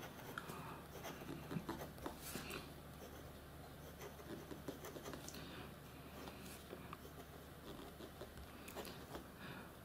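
Fountain pen nib, a smooth fine gold nib on a Yiren 601 Bookworm, scratching across paper in close, quiet strokes with soft patter and rubbing, steady low room hum beneath and no talk.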